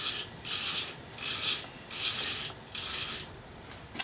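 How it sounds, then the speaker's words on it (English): A wood turning tool is sharpened on a grinder or hone in repeated rasping strokes, four bursts of scraping about half a second each separated by short pauses, close up with no talking. "I'm going to sharpen it up"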